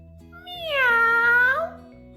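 A single drawn-out cat meow, loud and close, rising and falling over about a second, with a steady low hum underneath.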